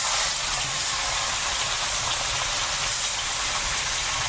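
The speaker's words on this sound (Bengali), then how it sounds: "তেলটা এতক্ষণে গরম হলো মাছগুলো দেবো" Fish fry in hot oil with a loud, dense, steady hiss and sizzle, close and unbroken throughout, no voices.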